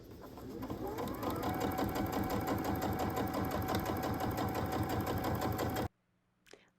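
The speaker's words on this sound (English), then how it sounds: "we're going to stitch all the way across to make it into like a tube" A sewing machine runs steadily to stitch a folded piece of fabric into a tube. Its fast, even mechanical chatter is loud and close, then it stops abruptly near the end, leaving a brief faint clatter.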